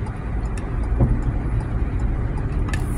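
A car's engine hums steadily while it overtakes long trucks on an Australian road, with loud continuous road and tire roar and a brief swell of passing traffic.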